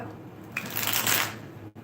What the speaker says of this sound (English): I just want to shuffle this deck really, really good